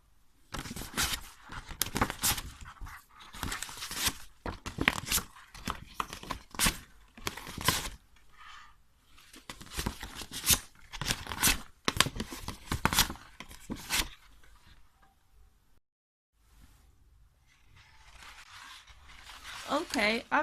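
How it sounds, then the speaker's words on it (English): Scissors snip and cut through paper along a ruler while shaping a large handmade flower petal, a run of short crisp cuts and rustles close by, with a pause midway and light handling noise, a voice speaking over parts. "use a ruler to cut the petal"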